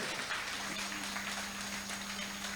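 Continuing audience applause at a Ukrainian storytelling event, a steady even wash of many hands clapping at moderate level with a faint constant hum beneath, no voices.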